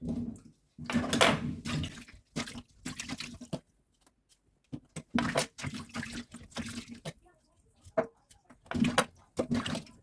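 Cucumbers being rinsed by hand in water for quick lightly salted pickles, with repeated bursts of splashing and running water in uneven pulses and short pauses between, close and moderately loud.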